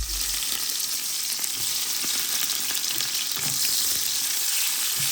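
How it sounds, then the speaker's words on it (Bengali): Onions sizzling steadily in hot oil in a pan, a dense, continuous frying hiss heard up close with no talk over it. "পেঁয়াজটা ভাজি হয়েছে"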